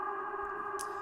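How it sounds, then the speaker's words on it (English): A frozen reverb pad effect in Ableton holds as a steady, sustained tonal wash, smooth and even throughout, with a brief airy swish near the end and no voices. "now I've created this reverb pad, and then I can unfreeze it"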